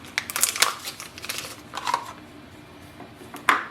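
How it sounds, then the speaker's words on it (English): Plastic seal being torn and peeled off a new Canon ink cartridge, a few close, crisp crackling rips in short bursts with quiet gaps between. "Open the seal."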